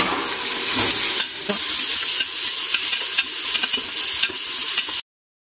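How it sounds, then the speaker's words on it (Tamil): Mint and cardamom sautéing in a hot pan give a loud, steady sizzle with light stirring scrapes, stopping abruptly near the end. "இப்போ வந்து புதினாவும் நல்லா வதங்கிருச்சு"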